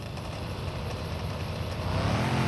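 The engine of a sedan car in the video game Fallout New Vegas runs with a steady low rumble and a slight rise in pitch, continuous and close with no talk.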